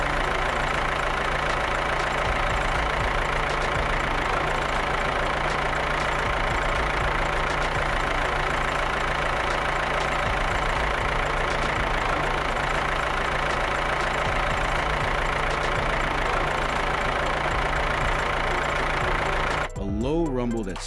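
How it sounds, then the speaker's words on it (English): Heavy engines idle steadily, a constant low rumbling drone with a faint hum, lasting throughout before cutting off near the end. "The engines purr as they warm up."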